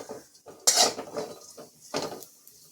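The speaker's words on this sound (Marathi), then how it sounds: "कढईत आपल्याला थोडंसं तूप टाकायचं आहे आणि ही जी खारीक पावडर आपण करून घेतली आहे तिला थोडंसं परतून घ्यायचं आहे" Dry date powder being stirred in ghee in a wok for winter fenugreek laddus, a close series of scraping, clinking utensil strokes against the pan in irregular bursts, with no talk.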